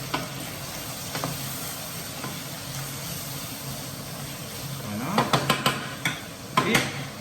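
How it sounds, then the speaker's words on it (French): Aromatic garnish for chicken samosas sizzling steadily in a pan, with a spoon scraping and clinking against the metal in a few quick bursts of stirring near the end. "je vais mélanger"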